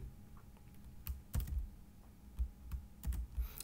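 A computer keyboard being typed on, with sparse clusters of soft key clicks and a few heavier keystrokes, quiet and close, over a faint steady hum, with no speech.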